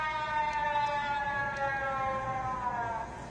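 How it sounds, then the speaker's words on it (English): A loud, steady emergency alert system alarm siren sounds continuously with a stacked, buzzy harmonic tone, holding near-constant pitch and volume before easing slightly at the end. "This should be the standard for all emergency alert sounds"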